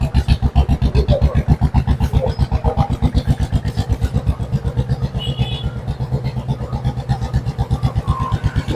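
A KTM Duke 125 motorcycle, a 2014 Europe-version bike, thumps along at idle and light revs, a loud, close single-cylinder putter with an even rapid pulse throughout.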